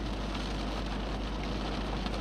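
Hail falling during a tornado storm in Campo, Colorado, a steady dense hiss of pellets striking surfaces, loud and continuous with wind rumble underneath.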